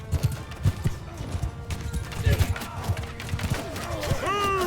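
A horse gallops in the Mount & Blade II Bannerlord battle, with rapid hoofbeats drumming steadily throughout and a few rising whistling tones at the end.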